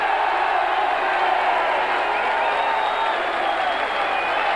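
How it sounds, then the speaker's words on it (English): A darts audience at the 1987 World Championship final applauds and cheers for John Lowe, a steady, unbroken wash of clapping that fills the whole stretch evenly. "let's hear your applause, please"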